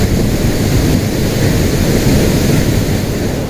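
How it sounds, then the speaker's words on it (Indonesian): Kedung Kayang waterfall and rain heard from below, a loud, unbroken roar of crashing water that fills the whole stretch evenly, with no voices. "Ini saya masih berada di bawah dari air terjun Kedung Kayang."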